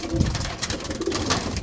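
Pigeons coo in a small loft, with low soft coos repeating through a steady background of other birds' murmuring and shuffling, close and moderately loud.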